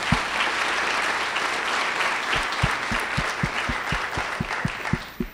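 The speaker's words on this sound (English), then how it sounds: "So quick round of applause for everybody who's participated." Dense crowd applause at a startup pitch night event, steady and loud throughout with a few sharper individual claps punching through near the end.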